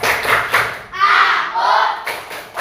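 Children in a grade 6 classroom clap the rhythmic "tepuk anak soleh" pattern, a run of quick claps in short bursts, fairly close and loud, with chanting voices blended in between.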